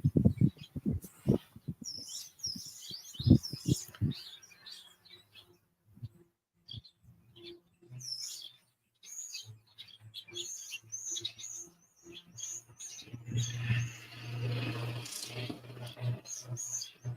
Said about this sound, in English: there's a lot of bird activity going on up there